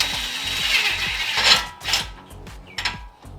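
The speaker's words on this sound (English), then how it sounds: "And then you can use a rattle gun." Rattle gun (impact wrench) running a nut onto a Gktech extended wheel stud, giving a close, steady mechanical buzz with a rhythmic low hammering pulse that fades after a few seconds.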